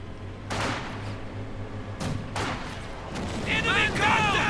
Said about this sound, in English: followed up with a nice hit from the mortar